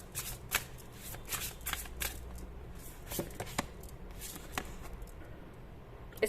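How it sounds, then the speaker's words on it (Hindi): Tarot cards are shuffled and drawn by hand, with quick riffling flutters and soft slaps of cards close by, in irregular bursts, with no talking. "ओके, और एक कार्ड यहां से निकालेंगे।"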